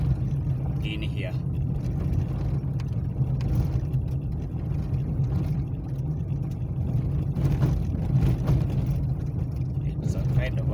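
A car drives a bumpy dirt road through Old Jogi Conservancy, its engine a steady low rumble throughout with a continuous rattle of rough ground.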